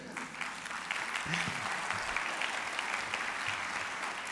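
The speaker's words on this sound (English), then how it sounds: "We should applaud that." Sustained audience applause at a talk, steady and fairly quiet, heard as a dense, even wash from across the room.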